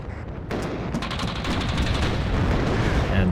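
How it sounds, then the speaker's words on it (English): HIMARS rocket artillery firing in the war game WARNO, a sudden loud onset of rapid crackling blasts that roll into a dense, sustained barrage of distant impacts and rumble. "I'm hearing some HIMARS firing right on top of the enemy."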